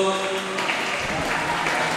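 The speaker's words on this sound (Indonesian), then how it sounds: "Beri tepuk tangan untuk" A religious study gathering audience applauds a questioner, a short stretch of moderate clapping mixed with voices and room murmur.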